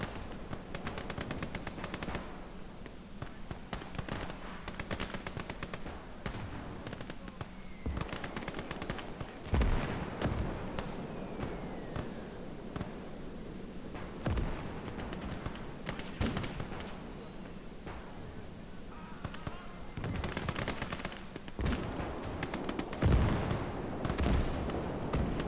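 Sustained small-arms and machine-gun fire crackles through a World War II battle at Mamayev Kurgan in the strategy game Gates of Hell, with rapid bursts and heavier single reports layered over a constant din of combat.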